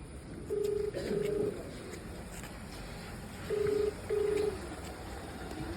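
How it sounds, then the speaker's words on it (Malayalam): Tones from a phone on loudspeaker sound in two pairs of steady beeps, a pause between the pairs, over faint background hiss, with no talking. "പാരിനെ കോൾ ചെയ്യും."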